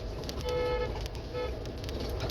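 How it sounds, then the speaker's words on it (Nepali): A vehicle horn on a narrow, steep mountain village road gives two short toots, a longer one and then a brief one, heard over the steady drone of the engine climbing in low gear. "हर्न मात्रै हिँड्नुपर्छ यो बाटोमा"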